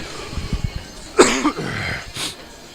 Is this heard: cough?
yes